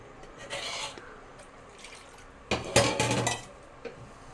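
A spoon clinks and scrapes around the inside of a metal pot of tomato chutney in short bursts, with brief pauses between stirs, close and fairly quiet.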